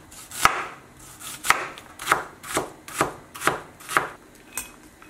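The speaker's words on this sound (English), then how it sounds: "So now I'm gonna be cutting my 1/4 onions in small squares too." A knife chops an onion into small squares on a cutting board, about ten crisp, evenly spaced strokes, close and clear with no talking.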